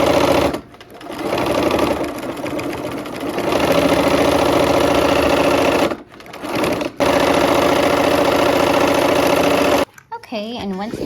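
Sewing machine running steadily and loud while stitching across nested seams on a quilt block, with brief stops and a voice talking over it.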